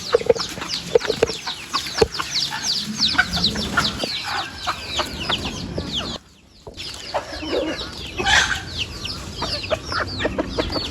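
A flock of chickens in Mayotte clucks and squawks busily while being fed, many birds close by with overlapping calls, dropping briefly near-silent for a moment before the chatter resumes.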